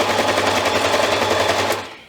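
A sewing machine stitching a neckband onto a girl's nightgown at a quarter-inch seam, with a rapid, continuous mechanical chatter that runs loud and close before stopping abruptly.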